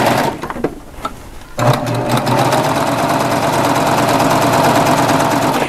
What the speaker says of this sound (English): I'm going to take my fishing line, put it to the right of the needle, and just hold it and stitch over the top of it.